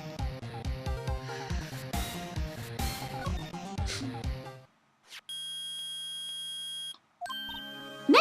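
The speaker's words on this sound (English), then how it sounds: "It's beeping! The metal detector's found something!" In the video game Phoenix Wright: Ace Attorney, a metal detector gives a steady electronic tone that holds for nearly two seconds. Chirpy game music plays before it, and a brief chime follows after a short gap.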